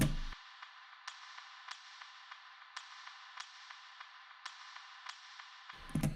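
A reverberant loop of sharp drill-style hi-hat ticks chopped from a sample, in an uneven rhythm, ringing over a washy ambient tail, with no voices.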